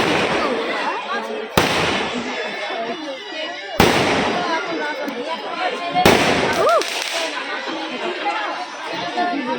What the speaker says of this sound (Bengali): কি সুন্দর বাজি ফাটছে